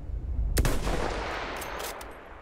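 In the video game Battlefield 1, a loud gunshot cracks out close by, followed by a reverberant tail and a few fainter shots or impacts afterward.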